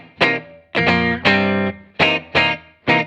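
A clean electric guitar played through a Princeton-style amp into a 12-inch Jensen speaker, with a short reverb, picks out six crisp chord stabs in a syncopated funk rhythm, each ringing briefly before stopping, loud and close with no talking.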